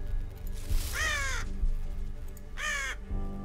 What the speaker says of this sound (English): Annoying bird.